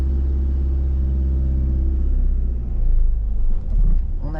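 Car engine idling with a steady low rumble, then picking up as the driver accelerates after restarting with the key during a learner driving lesson; engine note rises and swells toward the end, with some talk over it.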